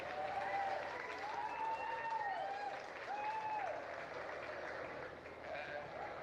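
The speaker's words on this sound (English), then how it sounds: "Give the young lady a nice round of applause." Audience applause in a county fair livestock arena after a Dorset ewe lamb class, moderate continuous clapping with sheep bleating repeatedly over it.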